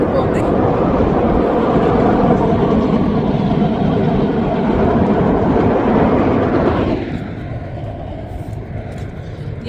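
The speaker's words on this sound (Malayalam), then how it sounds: "ഇത് കണ്ടോ ട്രെയിൻ പോകുന്നത്." A train rumbles past along the Delaware River, a loud, continuous roar that holds steady for about seven seconds before dropping abruptly to a quieter background hum.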